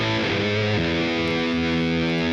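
Guitar played through HX Stomp amp distortion, a single sustained distorted chord that shifts pitch once and rings out loud and thick to the end.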